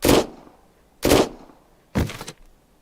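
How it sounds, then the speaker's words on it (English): Three sharp gunshots ring out in the video game Unheard, spaced about a second apart, loud and close, each with a short decaying tail and nothing else in between. "Gunshots. I'm assuming that was Big D killing both Tina and May there."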